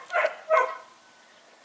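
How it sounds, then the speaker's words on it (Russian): A dog eager to run barks twice in quick succession, fairly close and loud, followed by near silence and a single sharp click. "хочет бегать, поэтому лает"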